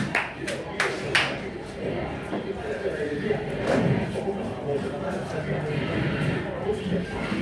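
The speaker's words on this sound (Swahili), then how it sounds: "tuwapigie makofi wanapokuja" A church congregation claps to welcome arriving guests, scattered hand claps and thuds popping up early and then thinning, mixed into a busy room with people talking over them.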